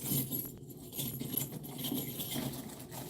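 A bunch of keys carried with cash in an outlet handbag jingles quietly, with faint, uneven metallic rattles and shuffling handling noise over about three seconds and no voice.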